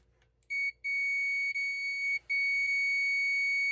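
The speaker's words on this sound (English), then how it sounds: "By touching the two leads together, it should beep and give you a reading." A multimeter gives a sustained high-pitched continuity beep as its two leads touch, sounding loud and close with a few brief dropouts where contact breaks.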